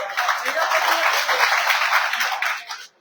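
Applause from an audience at a political speech in Uttar Pradesh, a dense, steady wash of many hands clapping that holds for nearly three seconds before cutting off abruptly.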